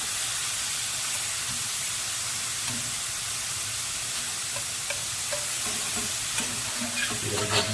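Steady, dense sizzling of minced pork frying in a hot frying pan, with a few small pops and utensil clicks near the end; no talking.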